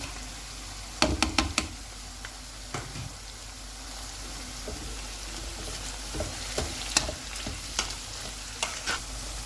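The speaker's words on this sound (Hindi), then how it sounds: "दरमियानी आंच रख के हम प्याज को गोल्डन फ्राई कर लेंगे।" Onions frying at medium heat in a pan while okra masala is being prepared, with a steady faint sizzle broken by a few sharp knocks and stirring clatters near the start and scattered later.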